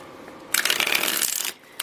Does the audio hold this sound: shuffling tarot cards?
yes